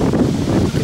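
Wind gusting across the microphone at the shore or aboard a boat, a loud continuous low rumbling buffet with no other sounds.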